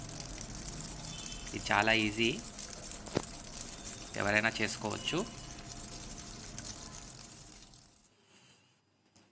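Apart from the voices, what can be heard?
water running from tap into washing machine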